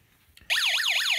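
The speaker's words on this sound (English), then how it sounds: "as long as motion is detected, an alarm will sound and the LEDs will come on." A Snap Circuits motion detector project sets off its alarm, a loud electronic siren that warbles up and down in quick repeating sweeps and starts abruptly after a couple of faint clicks.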